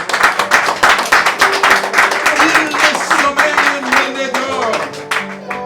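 A church congregation claps and applauds in a dense, continuous rhythm, with voices and singing mixed in throughout.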